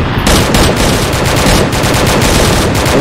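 Rapid automatic gunfire in the video game Six Days in Fallujah rattles continuously at close range, loud and dense with overlapping shots and no pause.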